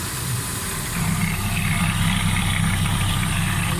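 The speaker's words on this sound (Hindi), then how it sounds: "गाड़ी स्टार्ट करें," A Suzuki Alto 1000cc car with a head pressure fault starts and then settles into a steady, rough idle. The engine hum is close and continuous, with no voices.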